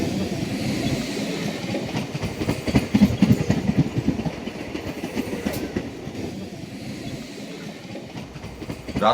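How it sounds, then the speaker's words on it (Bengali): A late-night train rolls past, its wheels beating a rhythmic clickety-clack over the rails that swells to a peak midway and then eases off as the carriages run by. "শেষ ট্রেনটাও কুশলবাবুর সামনে থেকে বেরিয়ে গেল"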